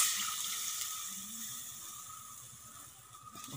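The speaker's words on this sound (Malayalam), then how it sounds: "വെള്ളം ഒഴിച്ചു" Water is poured into a pot for a village-style backwater fish curry, making a soft, steady splashing hiss that fades gradually over a few seconds, close and alone.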